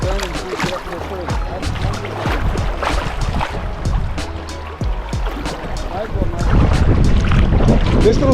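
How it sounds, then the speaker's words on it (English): A kayak runs small river rapids, with steady rushing, splashing water and gusts of wind buffeting the microphone, and paddle strokes and splashes close by. "let's get through these little rapids here"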